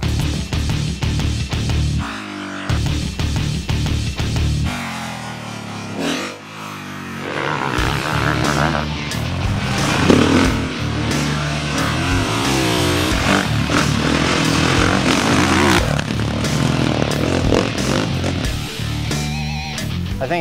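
A KTM 350 SXF motocross bike ridden hard, its engine loud and close, revving up and down through gear changes with a continuous buzzing, raspy exhaust throughout.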